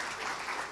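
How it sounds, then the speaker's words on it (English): Audience at a regional health-financing conference claps in a short, quiet burst of applause heard from a distance, with a faint voice underneath. "A round of applause for him."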